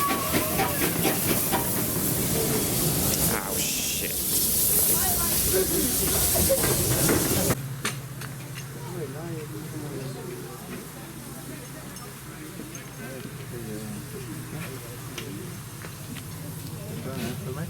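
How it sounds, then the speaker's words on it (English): A steam locomotive of the austerity type on a heritage railway lets off a loud, broad hiss of steam, then settles into a quieter rumble with clanking, while a person briefly exclaims nearby. "One of the most generic steam locomotive types ever."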